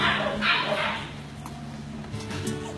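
Friendly small Pekingese and Angel mix dog at a shelter, with short yips and whimpering bursts near the start and again toward the end over steady room hum.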